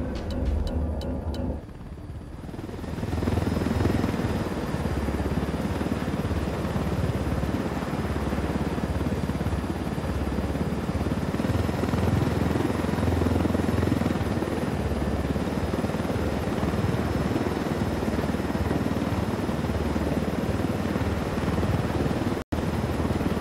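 A helicopter in the video game Ghost Recon Wildlands flies close by, its loud, steady rotor chop and turbine whine holding for over twenty seconds after a brief quieter opening, with no talking.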